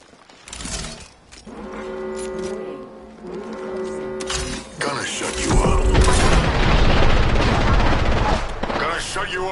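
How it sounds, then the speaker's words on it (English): A grenade goes off in Apex Legends amid a game battle, a loud sustained booming blast with gunfire and mechanical clatter, following tonal game alerts and music. "Throw my grenade out."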